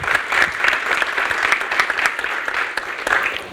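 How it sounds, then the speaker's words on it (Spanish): Audience applause at an evening economics panel discussion in Argentina, a steady wash of many hands clapping continuously at moderate loudness for the whole stretch. "al cual le pido un fuerte aplauso."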